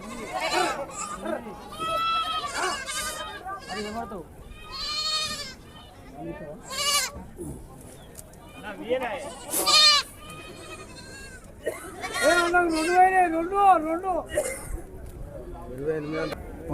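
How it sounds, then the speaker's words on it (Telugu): Large goats bleat repeatedly at the weekly Dubbaka livestock market, several animals calling in overlapping, wavering cries, fairly close, with people talking in between. "పెద్ద సైజు మేకలు ఉన్నాయండి ఇవన్నీ బిగ్ సైజు ఉన్నాయి"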